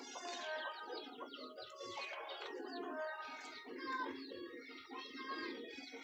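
A flock of pigeons pecking at sand and soil outdoors, with chickens nearby, fills the air with dense overlapping coos and chirps, steady and moderately near, with a voice faintly mixed in.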